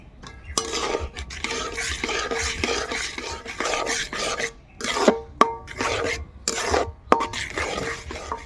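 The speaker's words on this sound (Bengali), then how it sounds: "এবার নেড়ে চেড়ে একটা ডো বানিয়ে নেব" Semolina with milk and a pinch of salt stirred into a dough for chomchom sweets, a close rasping scrape of spoon against the pan repeating in bursts with brief pauses, no talking.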